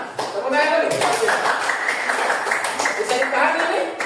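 A junior high class of students claps together in a burst of quick, overlapping hand claps, close in the room, with voices talking through it.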